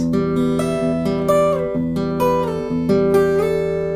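Steady fingerpicked acoustic guitar notes ring out bright and full, with even plucks layered over sustained bass tones, close and clear.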